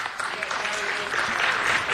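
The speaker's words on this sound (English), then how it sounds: "Give a big round of applause, yes?" A city council meeting room fills with a brief round of clapping from those present, moderate in volume and rising slightly near the end, with some voices mixed in.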